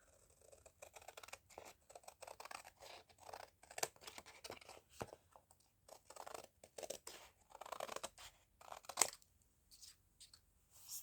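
Scissors snip and trim around a piece of collaged fabric cardstock, a close, quiet run of crisp irregular cuts with papery scratching and rustling between snips.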